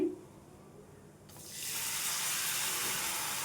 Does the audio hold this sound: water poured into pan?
yes